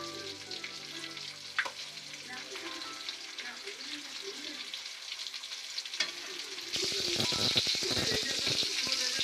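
Fish frying in a pan of hot oil for a Guntur-style fish fry, a steady crackling sizzle that swells louder and denser near the end, with a few soft clinks and no talk.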